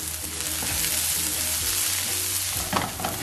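Mustard seeds, chana dal and cumin fry in hot oil for vendakka poriyal, a dense, even close-up sizzle with a brief stirring scrape near the end.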